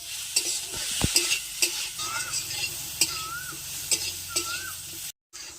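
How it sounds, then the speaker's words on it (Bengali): Young jackfruit stir-fried with spices and cumin powder, a steady close sizzle broken by regular scraping strokes of a spatula against the pan. "এবারে ভালোভাবে কষে নেব"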